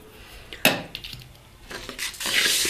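Wheat grains are stirred in a hot kadhai in a village kitchen: scraping and rattling of a spoon against the pan, with clatters and a light crackling sizzle that grows louder toward the end.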